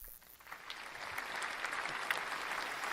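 Applause from a small group of podcast guests, a steady patter of hand claps at moderate level throughout, with no talk over it.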